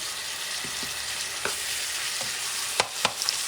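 Ground meat for Puerto Rican carne molida sizzles steadily in a pan, with a few sharp spoon clacks and scrapes near the end; no voices.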